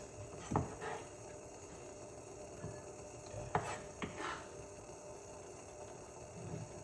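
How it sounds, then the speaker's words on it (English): A knife works through garlic on a cutting board, chopping it finely with scattered sharp taps and scraping strokes, quiet and close, with no talking. "let's chop up the garlic a little bit more finer"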